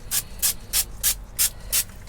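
Six short, sharp hissing sprays from a can of cooking oil spray onto aubergine, evenly spaced in a quick steady rhythm, close by with a faint hum beneath.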